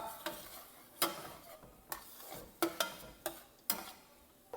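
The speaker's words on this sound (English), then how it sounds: "And now we throw down our onion." Onion sautéing in a pan while being stirred: a low sizzle under repeated sharp scrapes and taps of a utensil against the pan, roughly once a second, close and clear.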